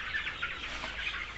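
Chickens on a rooftop farm of about 1,300 birds cluck and chatter together in a dense, steady flock din, with sharp calls poking out now and then.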